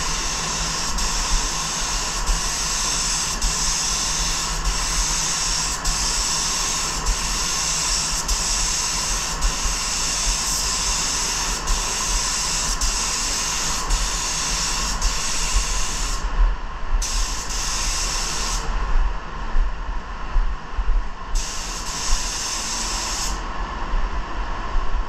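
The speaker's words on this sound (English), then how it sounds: "Here you go, the first coat of clear without anything, just clear itself." Spray gun laying clear coat over metal flake paint, a loud, continuous close hiss that runs unbroken for the whole stretch, with brief dips in the airy top end toward the end, no talk.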